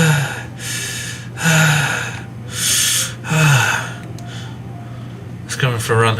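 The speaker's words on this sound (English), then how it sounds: "Sounds like breathing." Sharp, close breathing from a horror scene in Doki Doki Literature Club Plus: several loud gasping inhales in a row with pauses between, over a steady low hum, ending in a rougher, raspier breath.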